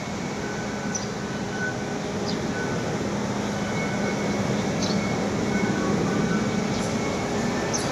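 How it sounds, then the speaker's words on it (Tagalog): A train ride at Hong Kong Disneyland gives a loud, steady rumble of rolling wheels and carriage noise with faint high squeals and clicks throughout. "Ayan yung sinakyan nating train mga idol."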